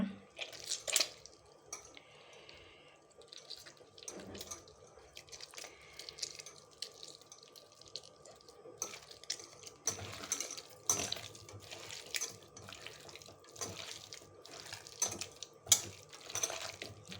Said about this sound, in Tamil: இப்போ தண்ணி ஊற்றிக்கலாம் தேவையான தண்ணி ஊற்றிக்கலாம்